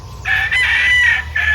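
Roosters crow loud and close where gamefowl are tethered on a farm, one long crow swelling after a brief lead-in and holding steady, then a second crow starting near the end.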